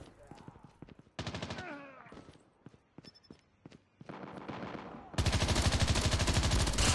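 Bursts of automatic rifle fire from the Ras in Call of Duty Mobile rattle in several separate volleys, ending in a sustained loud stream, interspersed with quieter game effects and footsteps.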